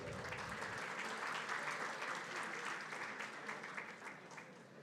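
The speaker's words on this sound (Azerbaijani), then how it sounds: "Alqışlarınızı rica edək." Audience applause at the IFBS 2026 summit opening session, a dense sustained clapping from a large crowd that holds steady for about five seconds and slowly eases.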